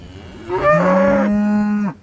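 Cattle on a farm in muddy spring pasture: a single loud, close cow moo lasting over a second, rising then holding a steady tone before cutting off.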